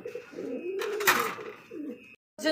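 Pigeon cooing near at hand among pigeons offered for sale, soft throaty coos rising and falling over about two seconds, with a brief rustle, then a pause before another coo starts.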